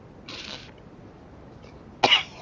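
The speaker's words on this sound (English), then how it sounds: "Now I'm coughing." A person gives two short, close coughs, a brief one early and a harsher burst a moment later, with quiet room background between them.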